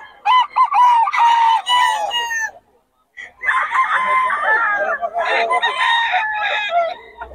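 Yellow-legged hatch gamefowl rooster crows loudly and close, two long crowing calls broken by a short pause, set at a busy gamefowl market.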